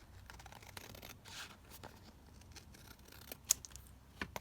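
Scissors trim paper for an Edith Holden–themed junk journal: a few quiet, close snips and soft papery rustles, with one sharper cut standing out near the end, no talking.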